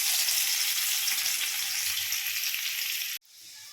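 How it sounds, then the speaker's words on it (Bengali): Crushed garlic paste sizzles loudly in hot oil in a wok, a steady bright frying hiss that cuts off abruptly near the end, leaving a softer sizzle. "কড়াইতে তেল গরম হয়ে গেছে, এবার আমি রসুন বাটা দিয়ে দেব।"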